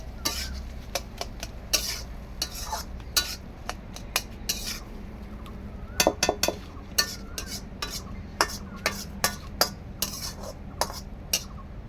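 Ash gourd curry stirred in a pot over a clay wood-fired stove, a spoon scraping and clanking against the metal in quick irregular strokes over a soft sizzle, close by with no voices.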